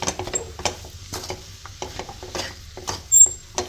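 Spiced samosa masala filling is stirred and mixed in a pan with a spoon, giving soft, irregular scraping and tapping. A faint sizzle sits underneath, and a sharp clink comes near the end.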